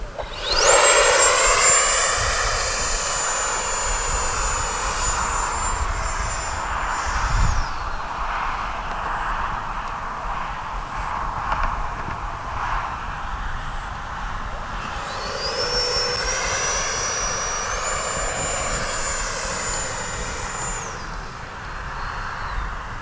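An FMS Rafale 64mm electric ducted-fan RC jet, running a China Hobby 2200, screams past under full power in two loud high-pitched whining passes, rising and falling as it sweeps near and then away.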